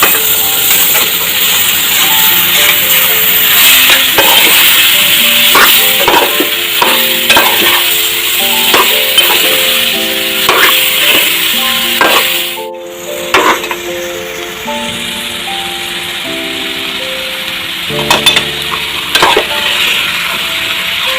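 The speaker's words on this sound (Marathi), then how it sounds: "हे मिश्रण व्यवस्थित डवळून घेऊया" A spoon scrapes and clatters steadily through pineapple pickle mixture with turmeric in a pan, giving repeated close knocks and scraping strokes over a faint sizzle. A sharp clack comes midway, then a short pause, and the irregular scraping resumes.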